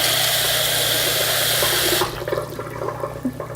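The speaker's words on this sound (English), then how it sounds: "We'll add a little water to the pan," Water rushes steadily into a cooking pan while artichoke pieces are prepared, a close, continuous broadband pour that stops abruptly partway through, leaving quieter clinks and faint kitchen noise.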